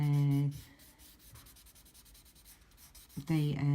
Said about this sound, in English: You can come in with your paper stump, and it takes sharp lines out, or blends them in nicely